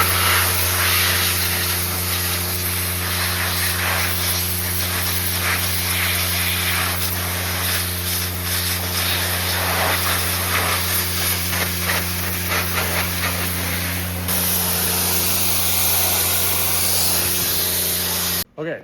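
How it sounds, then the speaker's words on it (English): A pressure washer sprays a Ram 3500 pickup's running boards outdoors, a loud, steady, continuous hiss over a low engine hum for nearly the whole stretch, with a voice talking over it. "I'm gonna use a pressure washer, get all this lube and stuff off"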